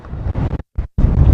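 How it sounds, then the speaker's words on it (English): Gusty outdoor wind buffets a microphone fitted with a makeshift windsock, producing loud low rumbling bursts broken by two abrupt near-silent gaps. "Except for the wind."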